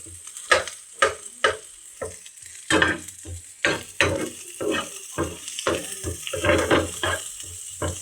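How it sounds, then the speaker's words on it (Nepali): Cold chow mein is stirred and fried in a pan: repeated scraping strokes of a utensil sound over a light background sizzle, in irregular bursts close by, with no talking. "Chowmein fry."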